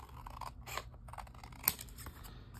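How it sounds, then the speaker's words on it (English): Scissors snipping through a paper journal embellishment, a few close, crisp cuts with a sharp blade snap partway through, quiet and without talk. "So now I'm just going to cut this and I'm gonna cut it over here."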